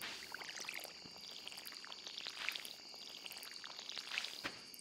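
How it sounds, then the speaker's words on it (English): Crops being watered in the Stardew Valley video game, soft splashy pouring bursts repeating every second or two over quiet background game music, faint and without speech. "Now I need to water everything."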